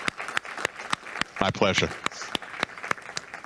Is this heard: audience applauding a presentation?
yes